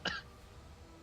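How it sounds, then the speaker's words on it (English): A single short cough, close to the microphone, over a quiet background. "Coughs."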